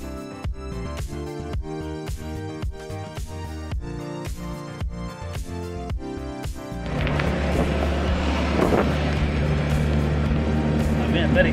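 An auto rickshaw ride on Pune roads, with the engine's buzzing drone and road noise rising and thickening partway through as the vehicle gets going, while a voice talks over the opening seconds.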